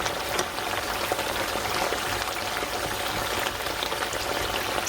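Cold potato pieces frying in a pan of mixed olive oil for a Spanish tortilla, giving a steady, dense crackling hiss with fine bubbling that stays even and close throughout, with no voices.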